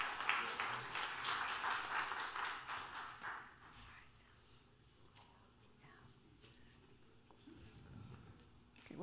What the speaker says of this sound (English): please give him another round of applause to UVI Harmonic Voicez